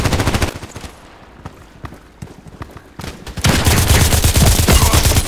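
Rapid bursts of H&K 416c rifle gunfire in the first-person shooter video game Contract Wars, sharp repeated shots crackling in quick succession, easing off midway and then swelling into a louder, denser volley toward the end.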